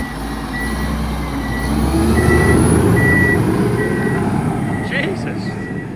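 Prinoth Peste tracked vehicle, a basher with a hooked rake blade and rear weight, rumbles with a heavy diesel drone while evenly spaced reversing beeps repeat over it, plus a brief clatter near the end.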